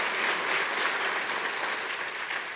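A town hall forum audience gives sustained applause, a dense even wash of clapping from many hands that holds steady for a few seconds and then eases slightly, with no speech over it.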